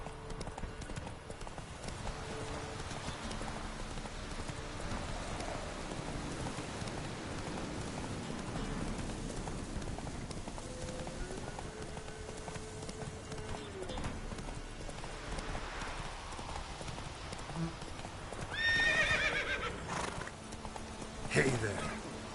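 Hoofbeats of the horse Roach galloping in The Witcher 3 keep a steady clip-clop rhythm at moderate distance, with a burst of louder movement near the end.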